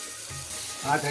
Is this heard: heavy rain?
no